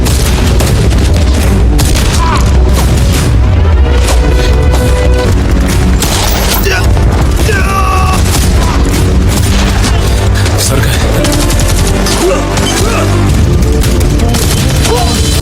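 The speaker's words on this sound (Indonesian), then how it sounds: "Arun sudah dibombardir dengan tembakan senapan." Rifle gunfire in an action film scene, dense bursts of shots and booming impacts packed together with a loud, continuous battle roar that never lets up.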